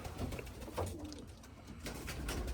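A racing pigeon coos softly at a club loft, low murmuring calls over a quiet background.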